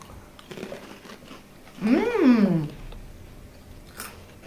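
A few cheddar Goldfish baked crackers are bitten and crunched close up, with a brief rising hum partway through.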